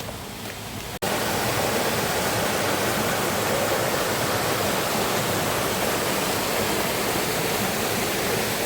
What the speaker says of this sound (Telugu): చిన్న వాటర్ ఫాల్ చాలా బాగుంది.